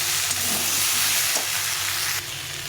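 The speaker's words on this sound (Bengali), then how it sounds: "টমেটোটা দিয়ে একটু নেড়ে চেড়ে জল দিয়ে দেবো" Tomatoes are stirred and fried in a pan, giving a steady, close, continuous sizzle with scraping stir sounds throughout, and no talking.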